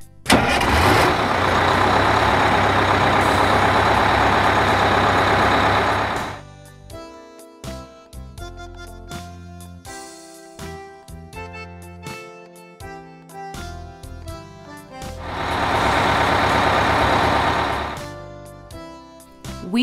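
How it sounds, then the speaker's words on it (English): A trailer truck engine roars loudly and steadily, drops away into a stretch of quieter mechanical clatter, then surges back up near the end, heard alone without voices. "Trailer truck."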